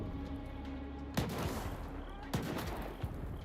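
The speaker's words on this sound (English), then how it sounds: "Who the hell's shooting at me?" Gunfire in S.T.A.L.K.E.R. 2 cracks out in three sharp shots about a second apart, each with a loud report and reverberant tail over a steady background rumble of game ambience.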